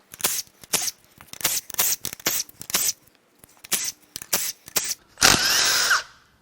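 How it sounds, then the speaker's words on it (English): A power tool zips bolts out of the timing cover of a neglected Hyundai Equus 5.0L Tau V8, giving a string of short, loud whirring bursts with brief gaps, ending in one longer, steadier run. "Now we're going to start zipping some bolts out of the timing cover."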